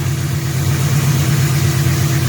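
1997 Ford Mustang GT V8 idling steadily just after an adjustable Kirban fuel pressure regulator was fitted, a smooth low rumble heard up close with no speech over it.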